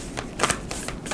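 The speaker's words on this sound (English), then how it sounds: "8-card spread, 2 more shuffles." A deck of tarot cards being shuffled up close, with a few quick papery riffling bursts in a row.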